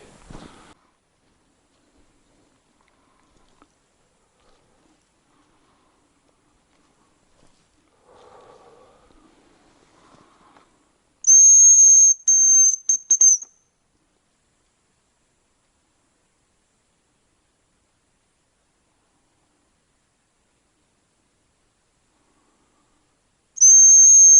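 Sharp, high whistled notes imitating a hazel grouse, in a quick burst of several short calls, then a long quiet stretch with faint rustling in the taiga, and one more whistle at the end.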